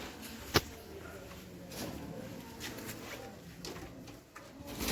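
Pigeons of the black-bodied, full-feathered kind at a pigeon sale coo in low, soft murmurs at moderate distance, with a sharp click near the start and a faint rustle of handling throughout.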